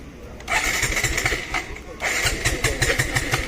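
A motorcycle with a remote-control security lock being cranked but failing to start: repeated bursts of starter cranking with rhythmic engine chugs, a short pause between two attempts, close and fairly loud.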